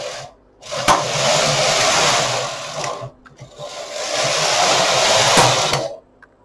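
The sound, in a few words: knitting machine carriage knitting rows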